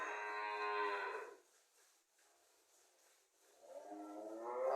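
A Holstein dairy cow on a farm in Bangladesh lowing twice, with a long, full moo, a short quiet pause, then a second moo rising near the end.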